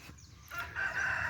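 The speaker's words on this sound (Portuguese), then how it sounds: "aquele galo" A rooster crows once, the call rising and holding in a drawn-out strained note, heard from a moderate distance over faint background noise.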